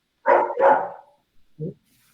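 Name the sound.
dog barking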